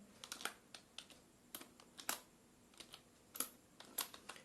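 A password is typed on a computer keyboard. Quick, light key clicks come close by in uneven bursts, with short pauses between groups of presses.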